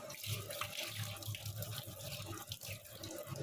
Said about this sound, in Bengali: আমি একটু হাতটা ধুয়ে নিই